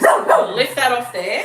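A dog barks in a home kitchen during a live bread-making demonstration, with short yips and barks mixed into close, loud talking.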